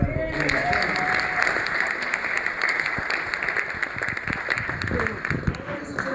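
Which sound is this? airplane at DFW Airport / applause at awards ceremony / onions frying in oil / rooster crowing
applause at awards ceremony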